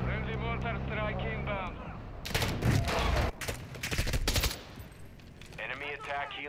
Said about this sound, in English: Friendly mortar strike